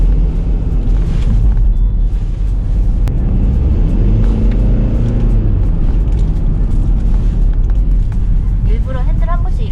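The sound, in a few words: Mercedes GLK 220cdi accelerating and shifting gears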